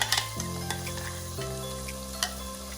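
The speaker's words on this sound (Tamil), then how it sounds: "இந்த என்டையர் பேஸ்ட்டை வந்து சேர்த்துட்டு இந்த ஆயிலில் கலந்து விட்டுக்கலாம்" Ground paste of tomato, onion, green chilli and cashew nuts frying in oil for paneer mutter masala, a soft steady sizzle with a couple of light utensil taps over a low hum, close and fairly quiet.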